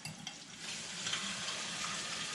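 A chicken thigh frying in hot oil gives a steady, bright sizzle that swells louder partway through and then holds, close up, with faint utensil clinks and no voices.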